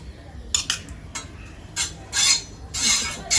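Ginger being stirred in a glass of water, a spoon scraping and clinking against the glass in several short, irregular bursts, close and fairly clear with no talk.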